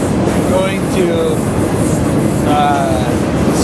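A freight train rolls along with a steady, loud rumble and rattle while trainhopping out of Lincoln, with brief metallic squeals rising over the constant noise.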